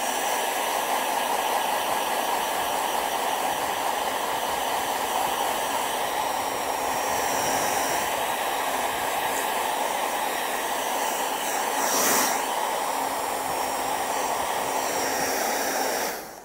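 Hair dryer blowing steadily on a wet painting of a mountain scene with trees, a continuous loud whooshing hum that runs unbroken for about sixteen seconds and swells briefly near the end before cutting off.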